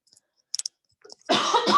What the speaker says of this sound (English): Pardon me, I've got a cough today.